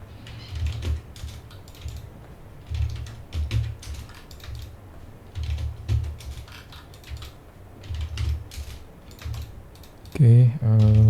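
Numbers being typed on a computer keyboard during a SketchUp modeling session, with clusters of quick close key clicks repeating in short bursts over a low steady hum, and a brief electronic tone near the end.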